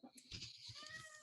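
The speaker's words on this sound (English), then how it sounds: "My cat is going nuts." An agitated house cat meows several times in quick succession, quiet and fairly close, with a short strained cry that rises and falls.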